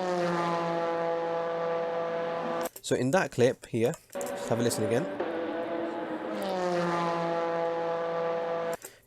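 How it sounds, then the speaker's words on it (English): Car engine droning with a brassy, trumpet-like exhaust tone through a bell-shaped exhaust, a strong steady harmonic hum broken in the middle by someone talking, then returning loud and sustained. "the car's producing like a trumpet noise, where the sound sounds like it's coming out of a bell shape exhaust"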